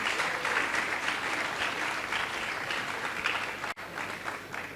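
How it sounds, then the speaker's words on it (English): Steady applause from a large audience at the Tony Elumelu Foundation Forum, a sustained wash of clapping that cuts off abruptly near the end. "Can we give them a round of applause?"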